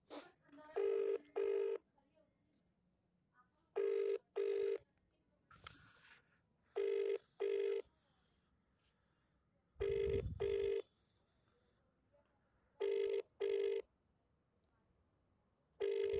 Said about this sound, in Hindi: अब मैं उसको फ़ोन लगाता हूँ।